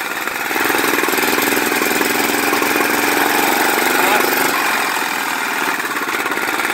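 An old Tecumseh 6.5 hp go-kart engine runs loud and steady close by, a continuous buzzing, rattling drone held at high revs with a slight dip in pitch near the end.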